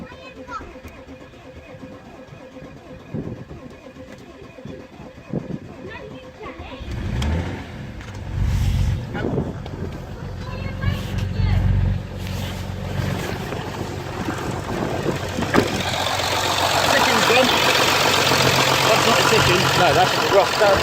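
An Audi 3.0 TDI diesel engine with an injector fault cranks and fires partway through, then settles into a loud, uneven idle. Quiet workshop sounds come before it starts.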